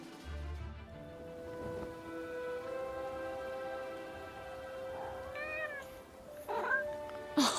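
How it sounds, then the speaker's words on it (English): A cat from the video game Forspoken meows a few times in the second half, close and clear over a sustained musical drone and light rain-like ambience, with no voices. "Oh, it's one of Mom's cats."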